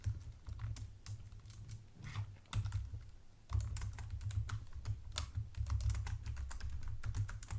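Python code being typed on a computer keyboard: a steady, close clatter of keystrokes with brief pauses and no voices.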